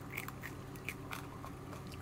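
Crisp bites and chewing on crunchy fried anchovy and petai bean skin sambal, a series of sharp crackling crunches spaced irregularly, close and fairly quiet, with no talking.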